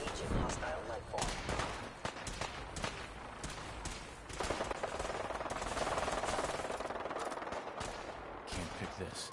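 Gunfire in the Fallout 4 video game: loud, dense volleys of rapid shots crackle almost without pause for several seconds, with bursts blending into a continuous automatic barrage.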